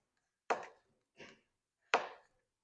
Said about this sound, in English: We're gonna slice these up.